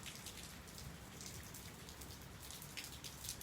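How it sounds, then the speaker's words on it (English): Rain falls steadily beside a front porch in southeastern California, a faint, even patter and hiss with scattered drips and no voices. "It's been raining all day here in the south"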